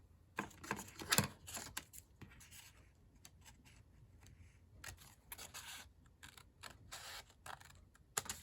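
Scissors snip and rustle through paper while junk journal pages are made, with several sharp close cuts and handling sounds separated by quiet gaps.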